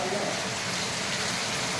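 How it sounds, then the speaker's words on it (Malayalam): Steady rain pours down on a forest homestay in Akamala, Thrissur, a dense, even hiss of falling water with no breaks, close and fairly loud. "ഇത്ര മഴ കൂടി"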